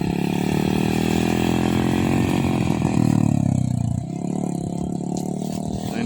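A motorcycle engine revs loudly and close by as a learner practices shifting into second and third gear, its pitch climbing steadily before dropping sharply and settling into a lower steady drone.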